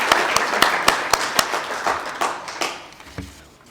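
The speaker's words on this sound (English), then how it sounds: "Can we give our guest of honor another round of applause?" Audience applause for the guest of honor at the official opening of a Society of Clerks-at-the-Table professional event: loud crowd clapping with sharp individual claps standing out, thinning and fading away toward the end.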